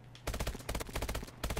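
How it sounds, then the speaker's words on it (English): Rapid bursts of automatic gunfire from a Call of Duty: Advanced Warfare Gun Game match, loud and close, firing in quick repeated short groups with brief gaps between them. "I thought my gun was not a 3-round burst, but it was a 3-round burst"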